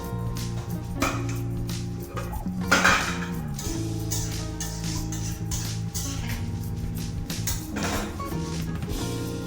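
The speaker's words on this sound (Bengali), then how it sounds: "এবার ঢাকনাটা সরিয়ে দেখে নিচ্ছি কত" A lid lifted off a cooking pot of simmering bhindi, with metallic clinks and a brief scraping clatter partway through against a steady low kitchen hum and scattered utensil knocks.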